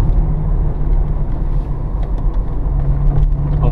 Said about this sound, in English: As you can see, this is quite a bumpy road